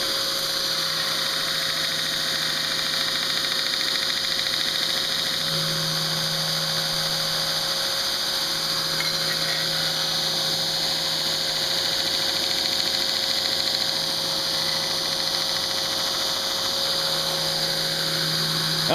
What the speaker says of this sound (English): I guess I could slow the grinder down to do this with a variable speed